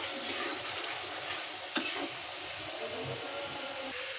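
Goat head meat being stirred and fried in oil with ginger-garlic paste, dried chilli paste, green chillies and onion, a close steady sizzle with a sharp scrape of the spoon partway through, no talk.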